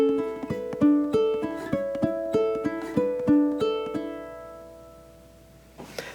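Ukulele plays a syncopated etude intro of plucked chords, bright notes in an uneven rhythmic pattern that ring and overlap, then fade toward the end before a soft final touch.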